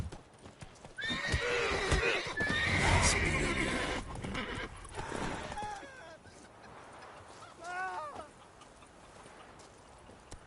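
A horse whinnies and neighs in The Witcher 3: Wild Hunt, with hoof clip-clops, a rising commotion and a second shorter whinny near the end, mixed with in-game character voices.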